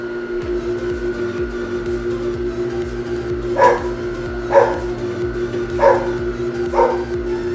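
A dog barks four times at a steady pace, fairly close, over a constant mechanical hum.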